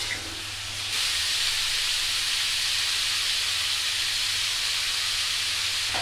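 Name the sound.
vegetables frying in a pan with ginger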